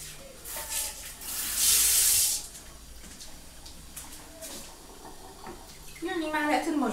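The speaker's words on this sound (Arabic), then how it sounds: "هحط شويه ميه صغيرين خالص" A small splash of water poured into a baking tray holding seasoned chicken pieces, a brief close running-water burst followed by quieter trickles and handling sounds. No talk is heard.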